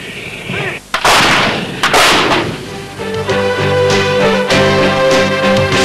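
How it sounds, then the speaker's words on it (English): A G6 155mm self-propelled gun howitzer fires with heavy, loud blasts in quick succession, followed by a sustained roaring rumble with a strong tonal undertone. "Further developments produced the G6 155mm self-propelled gun howitzer."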